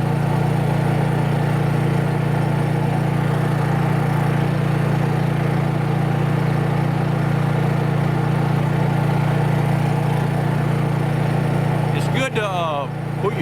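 A Honda EU3000is inverter generator runs at high throttle with eco mode off, a steady, loud engine drone holding constant throughout, with a brief clatter of handling noise near the end.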